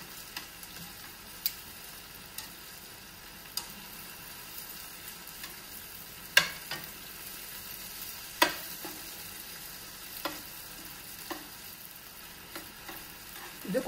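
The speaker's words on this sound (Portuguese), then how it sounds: "Pronto, vou fritar agora um pouco." Chicken pieces for stroganoff fry in a pan, a faint steady sizzle close by with occasional sharp clicks and spatters, heard alone with no talk.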